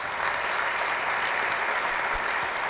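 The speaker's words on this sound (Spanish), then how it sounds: "Un fuerte aplauso para ustedes." An audience at a graduation ceremony for Robinson 1 and Robinson 2 graduates applauds steadily, a dense, even wash of clapping that holds at one level from start to finish.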